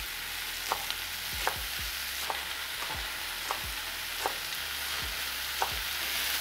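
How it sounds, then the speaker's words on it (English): Steady sizzle of mushrooms and onions frying in a hot pan, with occasional clicks and scrapes of stirring spaced through, close and continuous with no talking. "mushrooms and onions are making a lot of noise here"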